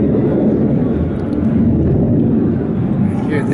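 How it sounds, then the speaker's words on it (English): Jet aircraft pass overhead near a fort in Jodhpur, Rajasthan, a loud broad roar sustained throughout, with a little ambient outdoor noise. "Hear the jets overhead."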